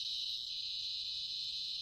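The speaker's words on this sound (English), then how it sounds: "They're still cicadas, right? They're fucking screaming." Cicadas screaming in the trees, a continuous high-pitched droning buzz held steady throughout, distant and faint with no talk.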